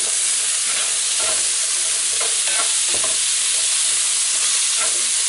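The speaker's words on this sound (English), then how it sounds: "Give things a bit of a stir." Ratatouille vegetables stirred in a hot pan, a steady sizzle and frying hiss with intermittent scraping and clacking strokes as the spoon moves through the vegetables, close up, with no talking.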